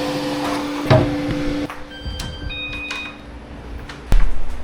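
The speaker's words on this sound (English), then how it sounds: "See, it's actually printing a plate." A 3D printer runs while printing a test plate, giving steady motor whines and stepped tones at close range, with a couple of sharp clicks and knocks.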